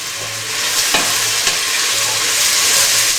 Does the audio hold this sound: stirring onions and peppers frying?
yes